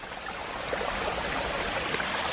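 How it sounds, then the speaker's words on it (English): Water spills from troughs into a pool on Mt. Arayat in the Philippines, a steady close rushing splash like a small waterfall, continuous and even with no voices. "And it flows down like a little waterfall there into this pool"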